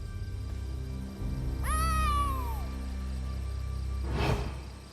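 A cat meows once in the Elder Scrolls Online video game, a long rising-then-falling cry over a steady background hum, followed by a brief soft rustle.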